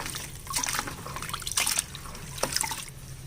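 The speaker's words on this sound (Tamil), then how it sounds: "இந்த மாதிரி ஒரு பக்கெட்டில் தண்ணி பிடிச்சிட்டு பாருங்கள் நான் பாதி பாதி இலையாக தான் போட்டு வாஷ் பண்ணுறேன்" Moringa greens being washed in a bucket of water, with soft splashing and trickling that swells in a few brief bursts as the leaves are stirred and lifted, close by and without any talk.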